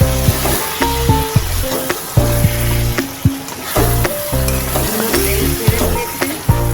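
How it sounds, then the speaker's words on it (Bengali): Spice paste sizzles loudly in hot oil in a pan for a jackfruit curry, a steady close frying crackle broken by repeated rhythmic scraping and knocking of a spoon against the pan as it is stirred. "মশলাটাকে ভালো করে কষে নিয়ে তারপরে আপনাদের দেখাচ্ছি।"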